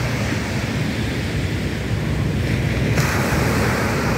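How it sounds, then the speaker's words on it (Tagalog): Sea waves wash and crash on a shore at night in a steady, loud, broad roar of surf with wind, no voices. "ang hampas ng alon dito"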